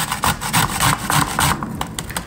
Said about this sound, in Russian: Натираем просто на мелкой терке все